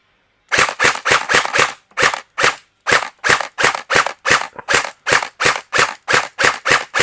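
An AK DB029 electric BB gun fires in semi-auto, giving about twenty sharp, loud cracks in a quick uneven rhythm with brief pauses, close and clear with no talk.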